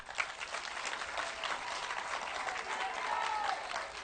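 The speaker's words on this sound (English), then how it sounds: "clap for yourselves" A crowd at a gathering applauds in a dense, continuous patter that swells slightly toward the end, fairly soft and heard alone without talk.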